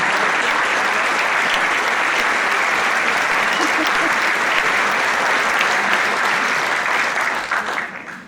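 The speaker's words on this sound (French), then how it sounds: "vous pouvez l'applaudir très très fort" A large audience at a film festival opening ceremony claps loudly and continuously, a thick wall of applause that holds steady for several seconds before fading away at the end.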